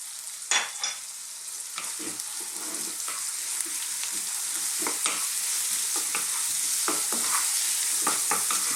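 Salt, pepper, cumin, chili powder, smoked paprika and oregano are stirred into a vegetable chili frying over above-medium heat, giving a steady loud sizzle broken by repeated scraping stirs.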